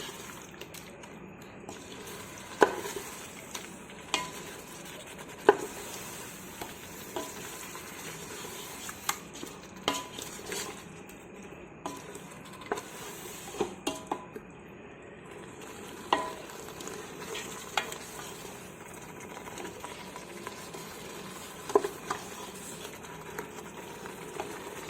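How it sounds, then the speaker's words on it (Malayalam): Chicken and tomato cook in a pot for biryani, a quiet bubbling simmer with a low sizzle, punctuated every few seconds by soft clicks and scrapes of a spoon stirring, with no speech. "എന്നിട്ട് നന്നായിട്ട് ഇളക്കുക"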